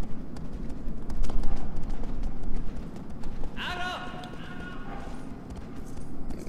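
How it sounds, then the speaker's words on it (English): A horse running in the video game Shadow of the Colossus, giving a steady rapid clip-clop of hooves under game ambience, with a brief whinny-like call in the middle. "Let's call our horse over here."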